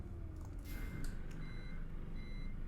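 Reversing alarm of a bus in Euro Truck Simulator 2 while it parks, a steady repeating beep over a constant low engine rumble, with no talk.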